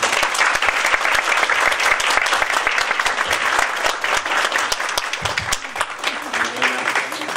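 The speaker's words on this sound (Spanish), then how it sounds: "Les pido un cálido aplauso para darle la bienvenida." Audience at a lecture on Salvador Alvarado and the 1917 Constitution breaks into sustained, dense applause to welcome a speaker, loud and steady with a slight taper near the end.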